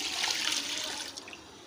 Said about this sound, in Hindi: अब मैं इसमें एक जग पानी का डालती हूँ